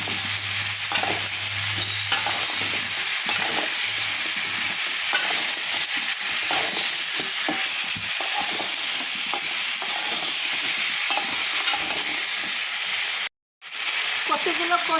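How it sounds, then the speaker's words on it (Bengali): Taro stir-fried with prawns in a pan, a loud steady sizzle with repeated spatula scrapes and stirring clatter throughout, a brief cut near the end. "এখন কচুগুলো দিয়ে দেবো বেশি কষাতে গেলে চিংড়ি মাছটা শক্ত হয়ে যাবে তাই কচুর সঙ্গে একসঙ্গে এভাবে কষিয়ে নেবো"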